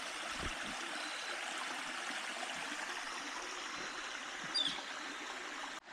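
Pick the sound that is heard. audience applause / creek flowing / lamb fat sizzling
creek flowing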